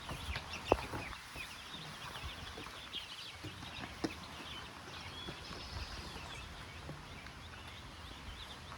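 A small backyard flock of about a dozen chickens clucks and murmurs in irregular bursts, fairly quiet and at moderate distance, over a steady outdoor ambience with no speech.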